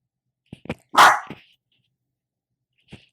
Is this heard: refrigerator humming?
no